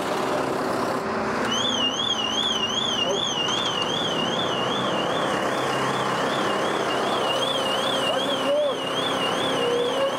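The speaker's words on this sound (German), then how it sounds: "durch das Wackeln, kann schon mal passieren, dass die Alarmanlage losgeht." Car alarm going off while the parked car is lifted and jostled for towing on a city street, a steady warbling siren that keeps cycling loudly for several seconds over traffic and engine rumble.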